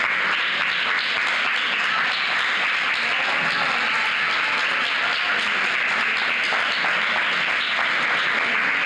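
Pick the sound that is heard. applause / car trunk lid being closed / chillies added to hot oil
applause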